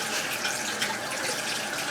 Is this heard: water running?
yes